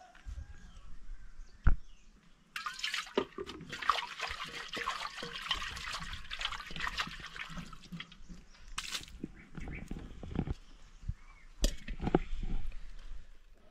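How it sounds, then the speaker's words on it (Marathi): Water splashing and trickling while mangoes are washed, with irregular pours, drips and clatters, fairly close but quiet overall, with no talk. "तर सर्व धुवून घेतलं आहे बघा इकडे"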